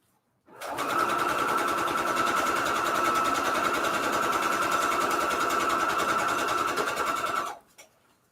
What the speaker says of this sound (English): So I'm sewing 1/4 inch right here.